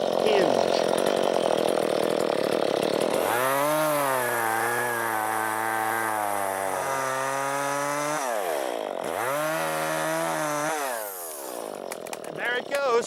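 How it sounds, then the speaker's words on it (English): A chainsaw roars close by as it makes the back cut to fell a tree, revving up and bogging down in the wood, idling briefly, then revving again. "Now it's time to cut downward on the back of the tree, being certain not to cut through this last inch or so."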